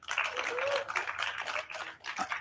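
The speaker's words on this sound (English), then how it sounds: "Let's give them a round of applause." Brief applause at the ICASA 2025 conference session, light scattered clapping from a small group, close and short, with a voice faintly mixed in.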